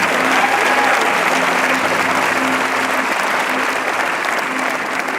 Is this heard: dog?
no